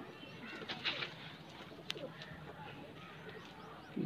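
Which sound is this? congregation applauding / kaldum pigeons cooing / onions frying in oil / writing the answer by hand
kaldum pigeons cooing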